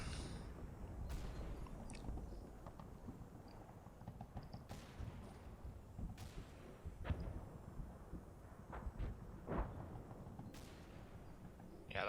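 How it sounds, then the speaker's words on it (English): Mark 19 automatic grenade launcher fire in the Combat Mission war game, set in snowy terrain: scattered distant thumping bursts and sharp impacts over a steady low rumble, with no voices. "that's Mark 19 fire coming this way"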